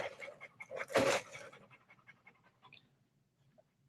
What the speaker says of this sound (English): so that would be excited barking